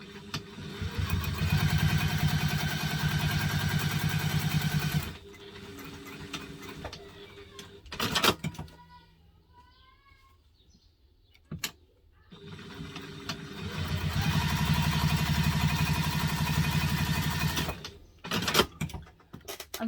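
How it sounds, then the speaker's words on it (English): A sewing machine top stitches along the edge of a fabric mini wallet, running in two long steady mechanical bursts separated by a quieter pause with brief clicks and handling noises. "we're going to top stitch along the edge here."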